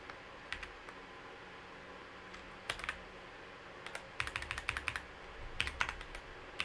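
Notes typed on a computer keyboard, with sparse key clicks at first building into quicker bursts of tapping, close and fairly quiet over a low background hum.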